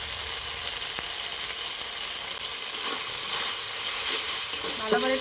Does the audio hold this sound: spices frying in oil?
yes